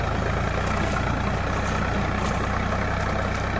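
A Sonalika DI 745 Sikandar tractor engine runs with a steady, unbroken low diesel rumble, close and constant throughout with no voices.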